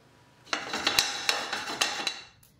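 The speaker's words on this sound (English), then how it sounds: "So the quinoa, we can hear it popping in the hot pan." Cooked, cooled quinoa toasting over low heat in a hot nonstick pan gives off sharp, close popping clicks, a handful of distinct pops spaced unevenly over a quiet background.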